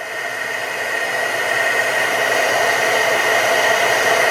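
A heat embossing tool blows steadily while melting washi tape, a continuous loud whirring hiss like a hair dryer that holds level and grows slightly louder throughout, with no talking.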